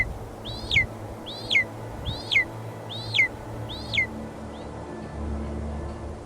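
A golden eagle in the Siberian wilderness gives five sharp, descending whistled calls at an even pace, each clear and fairly close, over a low wind-like rumble, followed by a fainter sixth call.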